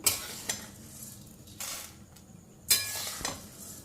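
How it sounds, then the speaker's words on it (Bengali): Crispy ghee-roasted wheat grains are scooped out of a pan, with loud bursts of grainy scraping and rattling against metal separated by quieter stretches of faint sizzle. "এখন এই গমগুলো তুলে নেব আর কতটা মচমচে হয়েছে সেটাও আওয়াজটা শুনিয়ে দিচ্ছি"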